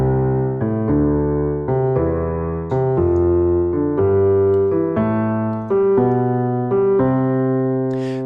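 Worship-style piano with the left hand walking up a major scale, one sustained note or chord struck roughly every second in a steady ascending sequence, close and clear with no talking.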